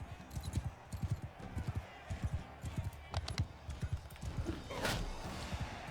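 Horse hooves clip-clopping in the video game Mount & Blade 2 Bannerlord, a quick uneven run of thuds close by, with a brief sharper noise near the end and no neigh clearly standing out.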